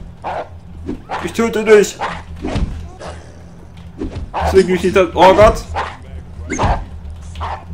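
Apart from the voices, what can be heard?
dog barking in the video game Postal 2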